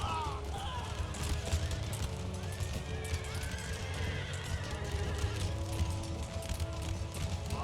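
Cavalry horses in a battle in the strategy game Empire: Total War, with repeated neighs and whinnies over a dense, constant roar of galloping hooves and battle clamour. A voice is heard faintly beneath the din.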